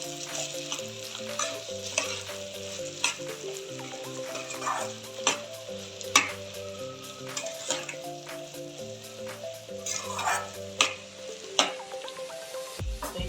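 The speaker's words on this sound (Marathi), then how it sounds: "मस्त मिक्स करून घ्यायचं।" Ivy gourd sabzi stirred in a pan with ground peanut-sesame powder, a continuous close sizzle broken by repeated scraping stirs and soft clicks of the spoon against the pan, no voices.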